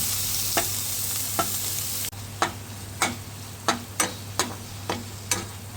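Tomato, coriander and salt simmering with drumsticks in a curry pan, a steady sizzling hiss with a low hum beneath and a regular series of sharp scraping clicks as the mixture is stirred, close up.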